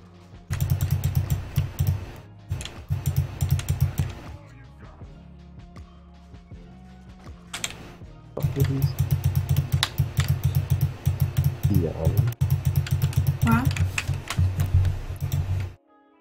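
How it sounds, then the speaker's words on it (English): Rapid computer keyboard typing and mouse clicking during a live-streamed gaming session, dense bursts of close clacks with a short pause midway, running steadily for most of the stretch. "I'm clicking."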